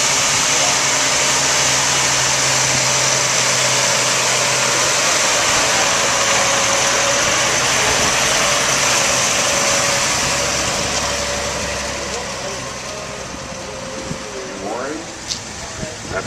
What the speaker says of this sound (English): going through the startup process of a 1900 Locomobile